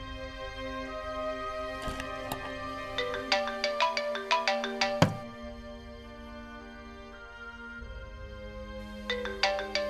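A mobile phone rings with an incoming call in a home, playing a melodic ringtone in repeated bursts at close range with little else around it.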